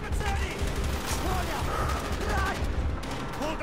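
Sustained gunfire in Call of Duty: Black Ops, rapid overlapping shots and automatic bursts in a dense, continuous barrage, with in-game voices calling out over the shooting.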